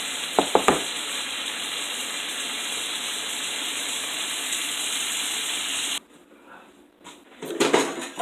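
Food crackles and sizzles steadily in a hot pan as it crisps during homemade potato soup preparation, with a few clinks at the start, then a sudden drop to quieter stirring and scraping near the end.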